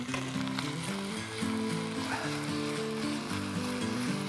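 Food frying and braising together in a pan gives a continuous, even sizzle that stays close and fairly loud for several seconds, mixed with steady tonal background music.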